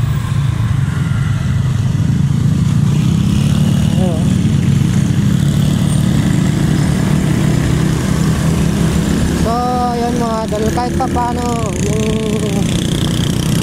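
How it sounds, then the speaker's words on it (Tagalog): A SkyGo King 150 motorcycle ridden along Sumulong Highway in Antipolo, its engine a loud, continuous low drone with wind rush, and the rider talking briefly over it near the end. "yung motor na pinamana sa atin is medyo okay pa yung takbo."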